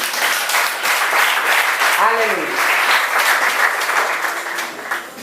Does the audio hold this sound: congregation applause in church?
yes